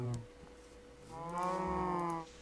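A single long Minecraft cow moo, steady and close, rising and holding before fading out, with no one speaking.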